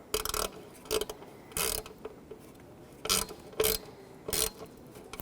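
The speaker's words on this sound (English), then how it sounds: "thread on this little mounting screw. Tighten it up." Ratcheting clicks from tightening a small mounting screw on a vent window latch of a 1995-2004 Toyota Tacoma, heard as about six short bursts of close mechanical clicking spaced irregularly with quiet gaps between.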